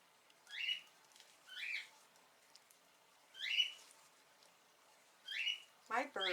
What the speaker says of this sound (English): my birds, I swear, every time I do a video, they have to be very vocal